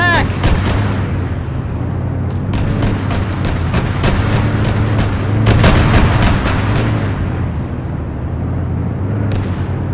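Gunfire and explosions from the Arma 3 military video game during a Zeus Ops session, a dense, continuous barrage of booming shots and blasts with sharp cracks throughout, loud and close.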